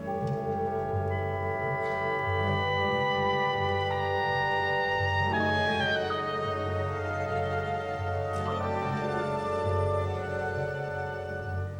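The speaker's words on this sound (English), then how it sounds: "do you hear the sound of that oboe solo?" Solo oboe from Debussy's Iberia, the movement Perfumes of the Night, playing a fine, thin-toned sustained melodic line over soft orchestral accompaniment, with no talk.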